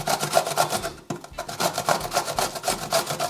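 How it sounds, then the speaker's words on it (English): Half a cucumber rubbed over a grater in a home kitchen, giving rapid rhythmic rasping strokes with a brief pause partway through, close and fairly quiet, with no talking. "I'm going to grate down half a cucumber."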